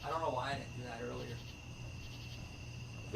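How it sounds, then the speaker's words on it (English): Steady, faint cricket chirping pulses in the background while a voice murmurs briefly at the start, then the insects carry on alone. "it's really relaxing to listen to the crickets chirping"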